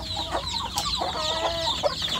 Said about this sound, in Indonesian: itu saya masukkan anak ayam kampungnya, saya masukkan ke dalam kotak pembesaran ini sedulur